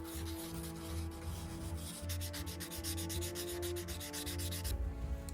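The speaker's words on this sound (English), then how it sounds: "And then the sandpaper." Sandpaper rubs steadily against a bronze ring in fast, close back-and-forth strokes, a continuous scratchy friction with a low hum underneath.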